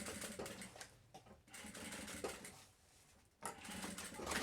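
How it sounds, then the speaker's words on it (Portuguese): Sewing machine stitching a thermal lunch bag, running in bursts with a clear pause near the middle before starting again, fairly close and steady. "Até onde você conseguir costurar aqui, ó."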